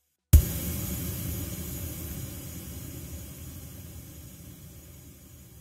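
Long reverb tail processed by MTurboReverb with its dampening high pass filter engaged, a broad noisy wash starting abruptly and slowly decaying over several seconds.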